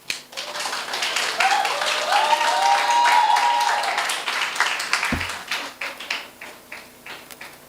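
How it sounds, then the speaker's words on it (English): Audience applause at an evening short film competition ceremony, steady broadband clapping that swells for several seconds, then thins into scattered individual claps near the end. "A round of applause."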